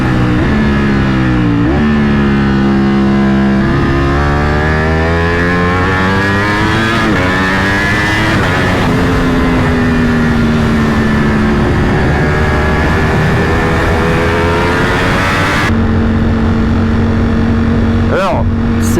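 A Ducati Panigale V4S motorcycle engine revving and accelerating hard, loud and close, with rising pitch sweeps through several gear changes, then a brief cut and a steadier drone.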